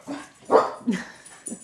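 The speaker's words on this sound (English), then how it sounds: "That's my dog." A dog barks and whimpers in a few short, close bursts indoors, with brief pauses between each yelp and no talking.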